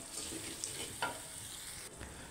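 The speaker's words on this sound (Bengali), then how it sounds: "পরিমাণ মতন দেওয়ার পরে ঠিক মতন একটু নাড়াচাড়া দিলাম।" Chicken curry seasoned with meat masala is stirred in a pan, giving a steady soft sizzle and frying hiss with a few faint scraping stirs, close and alone with no talking.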